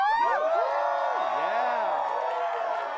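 Sports event audience cheering loudly, with many overlapping voices whooping and yelling in rising and falling pitches, dense and close throughout before easing slightly at the end.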